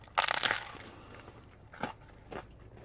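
A bite into a crunchy Sicilian pizza slice from a Brooklyn pizzeria, with a close, quiet crackling crunch early on and two softer crunches afterward.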